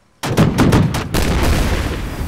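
A loud, close burst of gunfire erupts suddenly after a moment of quiet, several rapid heavy shots in a quick rhythmic volley, then a sustained roar of continued firing.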